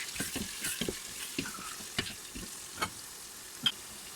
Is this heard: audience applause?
no